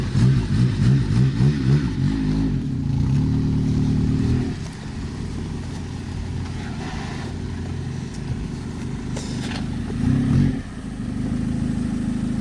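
A widebody kei car engine labors and revs as the car bounces up onto a driveway, with a loud throbbing note at first, a drop to a steadier idle, then another brief surge close to the microphone.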